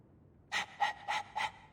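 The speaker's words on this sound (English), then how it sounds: "All that noisy dog breath, day in, day out." Dog panting in Dragon Age II, four quick breathy huffs in a row after a short silence, close and alone.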